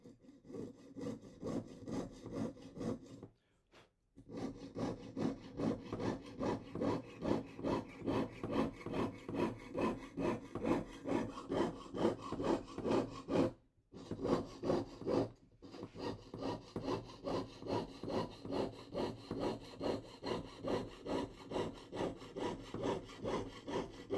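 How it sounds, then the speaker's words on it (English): A hand saw cuts through Irish slate in fast, steady back-and-forth strokes, close and loud, stopping briefly twice before carrying on. "let me know if the microphone picks up the saw a little bit too loud"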